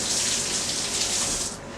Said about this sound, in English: I will rinse my hands